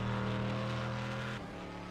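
Corvette GT race car engine at Mount Panorama, a loud sustained roar with a steady harmonic drone that shifts down abruptly partway through as the note changes.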